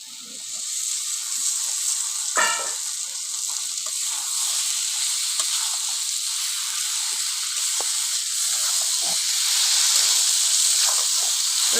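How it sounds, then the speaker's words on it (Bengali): Fried potatoes and soybean chunks sauté in a spiced masala in a pan, giving a steady close sizzle and hiss throughout, broken by a few soft stirring scrapes. "ভালো করে কষিয়ে নেবো আলু সোয়াবিনটা কষানো হয়ে গেছে আমার ভালোভাবে"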